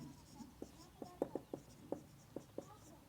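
Pen or chalk writing by hand during a Class 10 maths lesson on rational numbers, a string of short scratchy strokes and taps spaced irregularly, fairly close and quiet.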